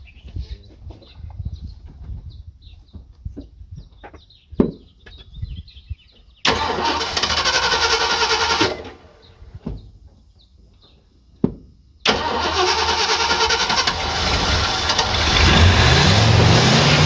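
After fuel is added, an old car's engine cranks and catches twice, in two loud bursts of running and revving. Quieter clicks and movement come before them and fill the brief gap between.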